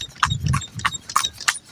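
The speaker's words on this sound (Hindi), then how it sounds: "देखो एक और घोड़ा बैठ लेके कैसे भाग रहे हैं" Horse hooves clip-clop on a road as the horse pulls a family buggy, a steady series of quick, fairly close hoof strikes with faint background noise and no speech.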